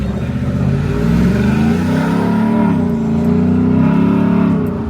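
A single-cab Ford F-150 with a Corsa Extreme catback exhaust accelerates hard in sport mode, its deep, loud engine drone rising steadily, heard from inside the cab with no talking.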